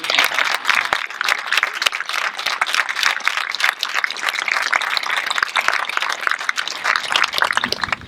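Sustained audience applause at a 2015 commencement ceremony, dense clapping from many hands filling the whole stretch at steady loudness with no speech over it.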